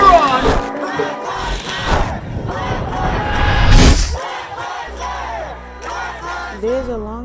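Protesters at a political rally headed to the Capitol roar and yell in a loud, rising crowd cheer that swells to a peak, with chants and shouting voices breaking through before it thins out.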